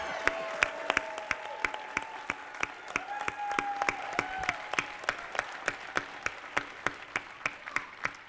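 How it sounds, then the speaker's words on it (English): An audience applauds at the City of Destiny awards ceremony in Tacoma: a steady, rhythmic run of sharp, evenly spaced claps over softer crowd clapping, with a faint voice and a sustained tone in the background. "y'all didn't give them enough applause"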